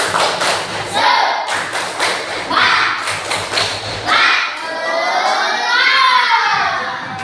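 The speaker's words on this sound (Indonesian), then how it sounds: "Coba tepuk semangat" Children in a classroom perform the tepuk semangat chant, bursts of rhythmic group clapping alternating with shouted chanting voices, loud and close, ending in a drawn-out shout.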